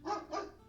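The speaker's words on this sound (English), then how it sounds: "Sorry if you hear the dog barking" A dog gives two quick, faint barks in rapid succession, distant and alone in a quiet indoor setting.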